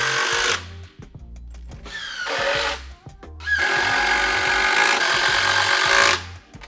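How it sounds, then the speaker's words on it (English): A power drill drives four screws through a JVICE 12KN pile bracket into the side of a timber pile, in loud whirring bursts with short pauses, the motor winding up and down on each screw. "Just going into the first side of the pile and putting in 4 screws."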